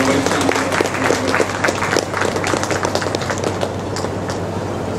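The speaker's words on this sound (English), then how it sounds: "I think you must give a round of applause to the Vice Chancellor." Audience applause at a university event, a steady dense roar of clapping from a large crowd filling the whole stretch at high level.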